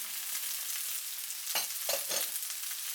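Onion, broccoli and mushrooms stir-fried in a pan for seafood rice noodles, a steady close sizzle with a few scraping stirs near the middle and end.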